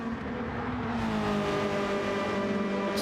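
A Honda S2000's four-cylinder engine screams near 9,000 RPM during racing at Suzuka, giving a steady, high, droning wail throughout.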